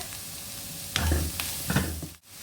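Onions sautéing in a pan with salt added, a steady sizzle broken by a few sharp stirring scrapes and thumps near the middle, close and fairly loud with no talking.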